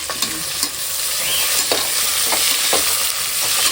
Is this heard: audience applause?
no